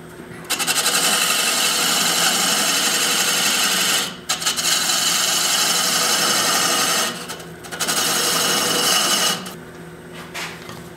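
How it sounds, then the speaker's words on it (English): A parting tool cuts into a spinning wooden goblet blank on a lathe, giving a loud, close, raspy scraping whine in long passes with two short breaks where the tool lifts off the wood. "I'm going to just take a parting tool and work that down just a little bit"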